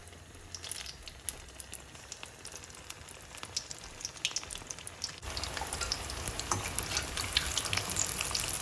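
Battered cauliflower florets for pakora go into hot oil. A soft crackle swells into a louder, denser sizzle partway through as more pieces are added. Close and continuous, with no talking.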